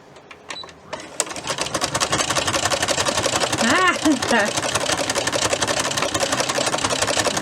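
A Brother sewing machine fitted with a ruffler foot starts up and runs with a rapid, steady mechanical clatter, close and loud, while a voice briefly speaks over it.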